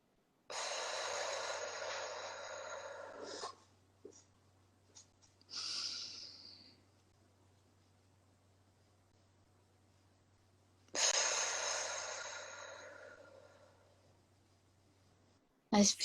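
Slow, deliberate breathing exercise: long airy inhales through the nose and exhales out the mouth, each lasting a few seconds with quiet pauses between, close and fairly loud against a faint steady hum.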